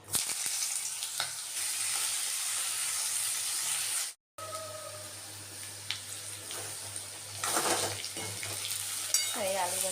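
Continuous sizzling and crackling of potatoes frying in oil, broken by a brief silent gap, with occasional clinks of utensils and rising hiss toward the end.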